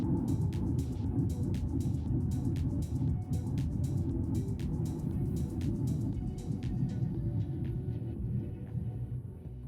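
A 2021 Ford Mustang Mach-E electric car pulls away on a test drive. Heard from inside the cabin, a low, steady road rumble builds without any engine whine, with faint ticking noises on top.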